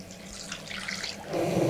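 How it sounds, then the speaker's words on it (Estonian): Tap water runs steadily into a container to dissolve lye granules for soap made from bear fat, a short continuous splashing stream that grows fuller near the end. "Läheme vett ka juurde ja lahustame selle"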